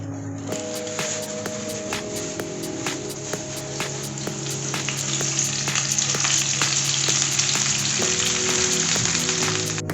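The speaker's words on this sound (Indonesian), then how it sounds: "Langsung kita goreng nih kolnya." Cabbage fries in a pan with a dense, steady sizzle and crackle, punctuated by regular sharp ticks, growing slightly louder toward the end; no one speaks.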